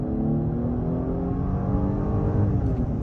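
A 2023 Genesis G90 with a 3-liter inline six accelerates under throttle in comfort mode, a smooth rising engine drone with harmonic whine climbing steadily, heard from inside the cabin with no talk.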